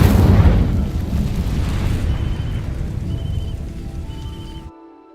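An Incendio fire spell in Hogwarts Legacy erupts in a loud, roaring whoosh of flame that rumbles steadily for several seconds, then cuts off abruptly to a faint ambient tone.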